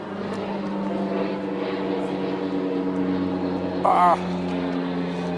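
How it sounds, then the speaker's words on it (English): A low droning engine of a sightseeing float plane flying low overhead over Mount Doug, steady and fairly loud, with a brief higher-pitched sound near the end. "It's a float plane. It's flying low over Mount Doug."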